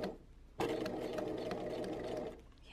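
Sewing machine running a straight stitch on a handkerchief bonnet, a close, steady mechanical hum and rapid needle chatter that starts abruptly and runs for about two seconds before stopping.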